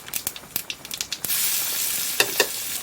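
Onion and fennel seeds frying in coconut oil, starting with sharp crackling pops and stirring taps that give way to a steady loud sizzle, close up with no voices.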